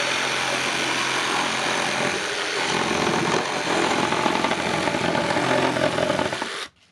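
A reciprocating saw buzzes loudly and continuously at close range for several seconds as it cuts through gypsum board, then abruptly stops.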